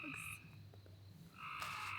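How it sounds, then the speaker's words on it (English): Frogs croaking outdoors, a dense chorus of low throaty calls with a sharper trilling call rising over it near the end. "Do you hear the frogs?"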